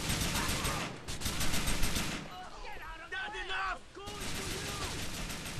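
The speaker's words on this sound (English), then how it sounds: "I can hear people shooting" Gunfire in the video game GTA IV, bursts of rapid shooting in two loud stretches with a quieter gap between them, where tonal chirping sounds cut in.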